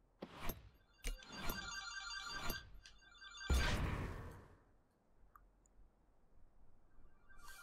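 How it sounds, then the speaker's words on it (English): A phone ringtone for an incoming call chimes in repeated bright tonal bursts over the first few seconds, followed by a soft whooshing thump and quiet clicks, fairly faint overall. "Oh my god, someone's calling me."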